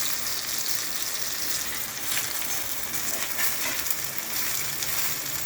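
Food fries in hot oil over a raised gas flame, giving a steady, close, continuous sizzle with faint crackles and no talking.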